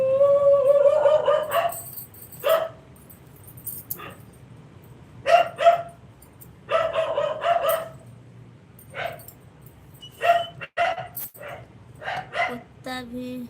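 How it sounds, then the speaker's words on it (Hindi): A neighborhood dog in a housing society barks repeatedly in short irregular bursts, some yips and whimpering, fairly close, with voices talking in between. "वह कुत्ता हमने नहीं पाली हूँ, इधर ही हमारे सोसाइटी में रहता है वो"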